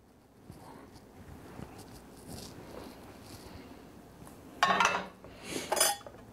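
Mushrooms go into an ovenproof baking dish for oven-baked chicken, giving two short clinking, rattling bursts near the end after quiet handling noise.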